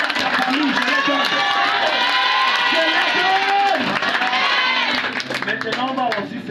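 A crowd cheers loudly and steadily, with whoops and shouts rising over a continuous roar of voices. Acclaim keeps up throughout, with a brief dip before it swells again.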